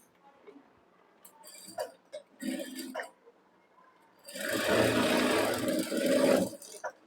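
A domestic sewing machine stitches tucks in a blouse. Brief start-stop bursts come first, followed by a longer steady run of stitching, close and moderately loud.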